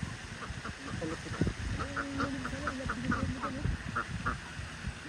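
Several ducks quack in short repeated bursts amid outdoor background noise, with a goose honking now and then; birds sound moderately close.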